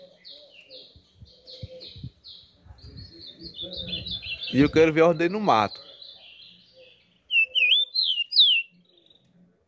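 A rufous-collared sparrow sings repeated short, bright chirping phrases outdoors, moderately close. Someone talks over part of the song, and louder notes come near the end.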